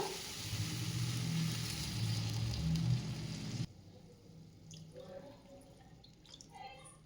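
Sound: pouring two cups of water into a pot for Maggi

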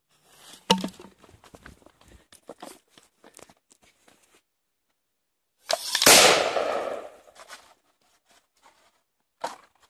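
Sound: ground bloom firecracker bursting in bottle

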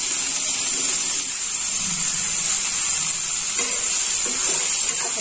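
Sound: vegetables and spices being roasted in a pan for upma

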